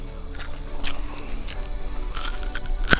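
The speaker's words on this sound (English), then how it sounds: "There's gonna be a lot of crunchy noise. ASMR. Carrot eating." A carrot is chewed close to the microphone in a crunchy ASMR style, with irregular crisp bites and crunches against a faint background murmur.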